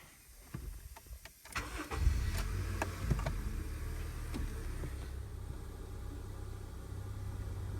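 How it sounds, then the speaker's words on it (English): A 2001-2005 Honda Civic engine cranks and fires up from close range, a short starter whir rising into a steady, even idle that hums on to the end. "I'm going to start the car, and we'll see if it engages still."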